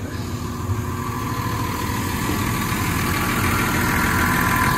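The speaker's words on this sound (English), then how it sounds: "That's a lovely engine, that, isn't it?" A quarry machine's diesel engine idles with a steady low rumble and mechanical vibration, close and continuous, slightly rising in loudness toward the end.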